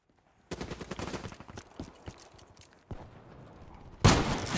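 Shotgun blasts and rapid gunfire in a Call of Duty Black Ops 3 match, a dense burst of shots after brief silence, a gap, then a loud close blast near the end.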